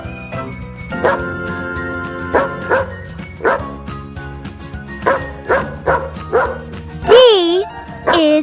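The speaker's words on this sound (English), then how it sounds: "D is for dog." A dog barks repeatedly in short, evenly spaced yaps, loud and close, ending with a drawn-out whimpering whine, over a light musical backing.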